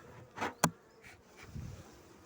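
Honeybees buzzing at a beehive that has had honeycomb added between its frames, with short, close buzzing passes and a sharp tap amid a low background hum.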